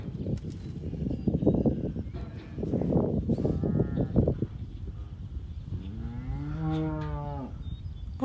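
Cattle in a barnyard, with a cow's long, rising moo near the end, while nearby animal cries and rough noise fill the first half.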